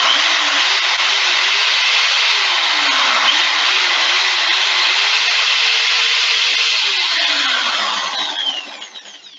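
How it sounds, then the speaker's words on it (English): A hand drill plugged into a home-built energy system during a power test runs with a steady, close motor whine over a broad hiss, its pitch wavering slightly, then spins down and fades near the end. No talking. "I'm putting a hand drill and plug it into the system. As you can see, I can turn it on and it works."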